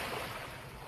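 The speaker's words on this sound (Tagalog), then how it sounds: "Guys, ito tayo sa may dagat" Sea waves wash on a sandy beach where children play, a brief soft roar of surf mixed with wind buffeting the microphone.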